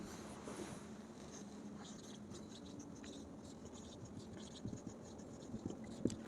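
Pen writing on paper while a math problem on the volume of a frustum is worked out, a faint steady scratching with small taps, quiet and close.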